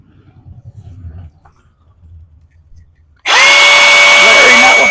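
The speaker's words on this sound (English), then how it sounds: "Larry, not with the chainsaw!" A chainsaw roars to life suddenly after a quiet stretch of faint murmuring, then runs loud and steady at full throttle, its high whine holding constant until the end.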